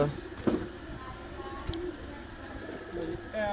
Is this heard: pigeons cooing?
yes